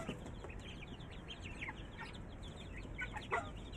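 Chickens cluck and chirp softly over a steady background hum, with a few sharper calls standing out near the end.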